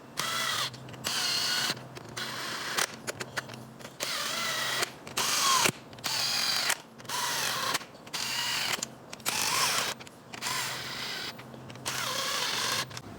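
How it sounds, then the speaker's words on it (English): A ratchet wrench clicks in repeated bursts while tightening and torquing the head bolts on a reassembled Ford Ranger engine, close and loud, with short pauses between strokes and no talk. "now I gotta finish up tightening all these bolts and torquing down where they need to be"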